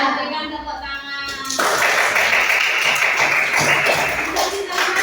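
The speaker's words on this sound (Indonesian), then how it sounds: "Ya, berikan tepuk tangan." Children in an elementary school classroom break into steady, dense clapping after a few scattered taps, the applause filling the room for several seconds over a background of voices.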